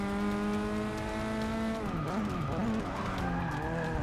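Formula race car in the video game Forza 6 skidding, a sustained engine tone that wavers and drops as the tires slide, loud and continuous with no talking.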